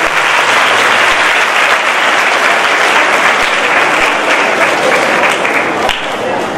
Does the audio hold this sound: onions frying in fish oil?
no